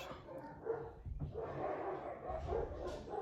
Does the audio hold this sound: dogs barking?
yes